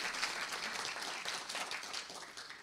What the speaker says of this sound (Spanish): congresista Alejandro Muñante, para quien voy a pedir un fuerte aplauso, por favor.